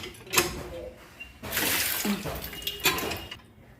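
Dishes are washed by hand under a hand-pumped tap, with water gushing and splashing in broken bursts, some clatter in between, and a voice faintly in the background.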